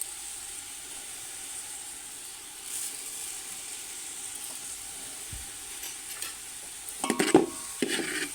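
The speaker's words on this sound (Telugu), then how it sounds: "పంచదార వేసుకున్న తర్వాత ఒకసారి మొత్తం కలబెట్టుకొని" Sweet potatoes are stirred with sugar in a hot pan, giving a steady soft sizzle and hiss, with a few louder scraping stirs near the end.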